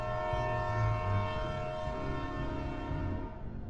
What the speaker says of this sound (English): The episode ends with the haunting horn of a train.